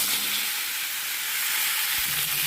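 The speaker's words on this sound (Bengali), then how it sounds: "এবং সবজিটা ভেজে নেব।" Cut vegetables, with dried red chilli and five-spice seeds, fry in a pan as a steady, loud, even hiss of sizzling oil that carries on without a break.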